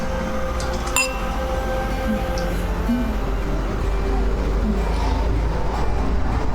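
A toast among cyclists on a sunny day in Annecy, France: one bright glass clink rings out near the start over a steady outdoor background hum with faint voices.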